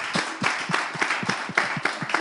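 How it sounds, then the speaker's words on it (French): Rhythmic clapping, quick even claps repeating steadily with soft thumps beneath, moderately quiet and with no voices. "applaudissez pour vous"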